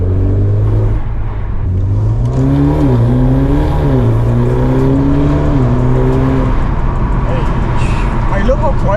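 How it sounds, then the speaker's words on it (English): A car fitted with an aftermarket valved exhaust drives and accelerates, its engine drone rising and falling in pitch through gear changes, loud and close and continuous, with people talking over it. "it sounds like a sports car now"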